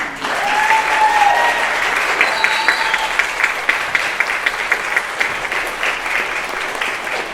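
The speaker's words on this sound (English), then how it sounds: "more incredible round of applause" A large audience at a middle school band recital gives sustained, even applause that fills the room, a dense wash of clapping that continues steadily with faint cheers mixed in.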